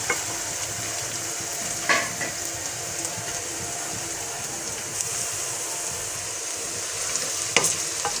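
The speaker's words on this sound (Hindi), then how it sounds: "थोड़ी देर पकाएंगे लहसुन अदरक को।" Garlic and ginger frying in a pan for chicken gravy, a steady close sizzle with occasional scraping stirs and clinks of a utensil against the pan, no voices.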